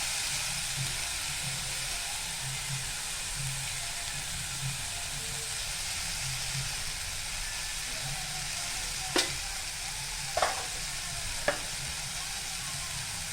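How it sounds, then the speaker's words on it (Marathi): Curry leaves and turmeric sizzle in hot oil while bread upma is being cooked, a steady close frying hiss throughout, broken near the end by three sharp spoon clinks against the pan. "आता कढीपत्ता टाकलेला आहे"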